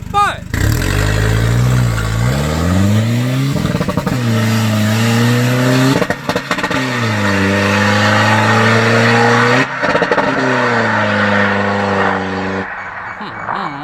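A remapped red All New Chevrolet with a six-speed gearbox accelerates hard, its engine climbing loudly through the revs in repeated pulls with abrupt cuts between them; sharp exhaust pops are not clearly distinct.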